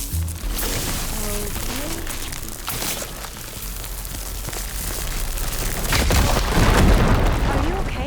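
A firegleam explosion in Horizon Forbidden West on PS5 sets off rumbling booms and crackling debris that swell and fade over several seconds, with a louder blast near the end and voices talking over it.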